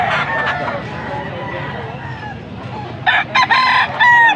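A young gamecock stag crowing at a seller's place, repeated close crows and clucks among other roosters, with people talking in the background.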